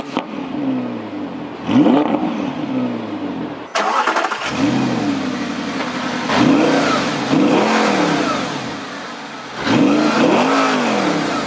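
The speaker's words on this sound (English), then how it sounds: "let's just take a listen to that V10 Plus." An Audi R8 V10 Plus fires up and revs its exhaust, a loud close engine roar that rises and falls in several throttle blips between idling stretches, with no talk over it.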